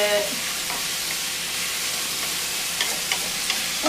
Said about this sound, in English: stir it all around and get the oil all over it